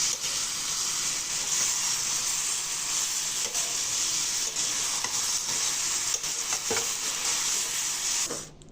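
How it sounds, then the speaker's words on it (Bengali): Vegetable curry hisses and sizzles in a pan right after the lid comes off, with a strong steady steamy hiss, occasional stirring knocks and a sudden drop at the end, close and loud. "ঢাকনাটা উঠিয়ে নাড়াচাড়া করে নিচ্ছি।"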